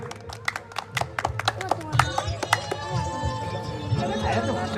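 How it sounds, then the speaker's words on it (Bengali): Audience clapping at an award ceremony during an annual picnic, a burst of several hands clapping irregularly up close that thins out, with people talking and crowd chatter alongside. "সবাই একটু হাততালি দেবেন, হাততালি দিয়ে উৎসাহিত করবেন"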